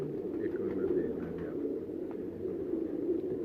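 Pigeons in a fancier's loft cooing continuously, a dense murmur of overlapping low calls nearby, with a few faint higher chirps.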